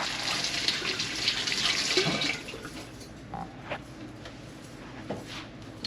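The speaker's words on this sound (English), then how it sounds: "Let me rinse my hands off." Kitchen water tap running while hands are rinsed under it, a soft hissing stream for about two seconds, then stopping into quieter drips and light splashes.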